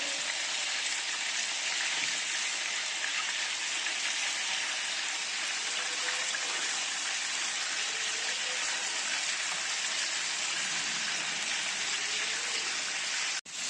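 Mutton keema and chicken fry in a pan over medium heat, giving an even, continuous sizzle that holds steady and close throughout, with no voices.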